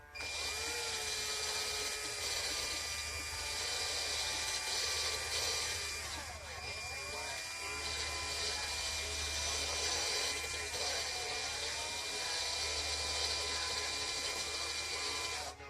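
A power drill bores a hole in a glass bottle, a steady high whine with a faint tonal grind that wavers as pressure shifts, continuous and fairly quiet.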